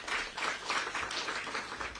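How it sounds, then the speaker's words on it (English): Audience applause welcoming a government minister at a post-budget dialogue event; steady, dense clapping from a roomful of people, moderately loud and continuous, with no speech over it. "I would like us to give a round of applause to welcome"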